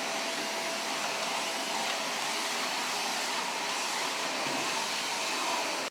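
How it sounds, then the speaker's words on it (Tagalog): A vacuum cleaner runs steadily in a bedroom with laminate flooring, a continuous close, loud broadband whoosh that holds evenly for about six seconds before cutting off at the very end. "Sige, mag-vacuum na tayo sa kwarto."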